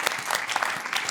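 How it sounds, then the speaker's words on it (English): Audience clapping in a tech conference session hall, a dense burst of many hands applauding together at steady volume. "please give all of us a big round of applause"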